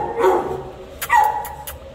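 A dog at the Animal Care Services shelter in San Antonio, Texas gives a few short, sharp barks and yips close by, over steady room noise.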